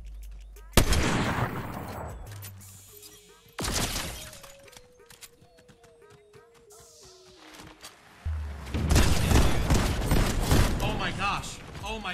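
Bursts of Fortnite gunfire crack and clatter in loud volleys, with a rapid string of shots and some breaking impacts in between, while players talk excitedly over the action.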